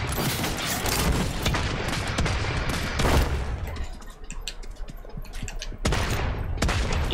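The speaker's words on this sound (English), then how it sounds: "He's shooting at me now." Gunfire in the battle royale game Realm Royale, with dense, loud bursts of shots and impacts that go on almost without pause, easing briefly in the middle before resuming.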